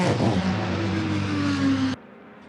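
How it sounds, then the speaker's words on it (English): Race car engine started and revving in the pit lane at the Rolex 24 at Daytona, 2020: a loud, steady mechanical roar with a rising whine for about two seconds, cut off sharply and leaving faint background noise. "Car has fired up. You can probably hear that."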